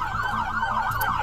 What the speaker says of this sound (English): Shut these sirens off!